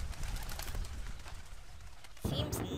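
A bird coos softly in the video game A Bird Story, a few low murmuring calls over a steady game background, with a brief brighter sound near the end.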